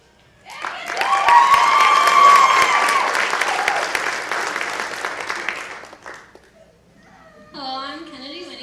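A pageant crowd breaks into loud applause with scattered cheers for several seconds, then it fades and a voice begins speaking.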